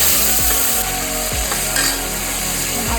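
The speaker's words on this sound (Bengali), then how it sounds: "এবার আমি কাঁকড়াগুলো ভেজে নেব।" Crabs frying in hot oil in a pan for a spicy crab curry, a close, loud sizzle overlaid with a low rhythmic mechanical hum and a few scraping bumps, no voices.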